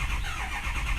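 A car engine cranks slowly and sluggishly, then catches. The steady churning is heard close up and alone throughout the brief moment.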